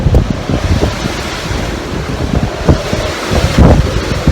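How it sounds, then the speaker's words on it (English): Strong crosswind buffeting the microphone outdoors on a very windy day, a continuous loud rumbling roar with gusty bursts and no talking. "You can see how windy it is with the crosswind."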